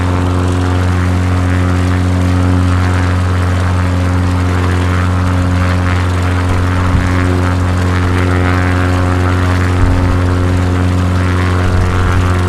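A propeller aircraft engine in Microsoft Flight Simulator 2020, heard from an outside view while flying over France, drones as a loud steady hum with a strong low tone throughout.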